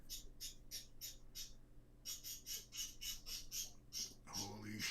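A pet bird squawks repeatedly close by, in short sharp bursts, a few spaced cries and then a faster run of calls, with a voice briefly joining near the end.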